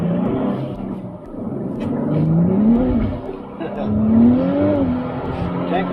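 A 2023 Nissan Z with a 6-speed manual accelerates hard, its engine rising in pitch through the revs, dipping briefly at a gear change, then climbing again, loud and close from inside the cabin.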